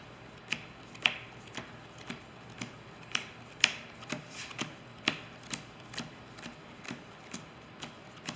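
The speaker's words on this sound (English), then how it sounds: "Do my power shuffle a third time." A deck of trading cards is power-shuffled by hand, giving a quiet, regular train of about sixteen crisp snapping card slaps, roughly two per second, with no talking.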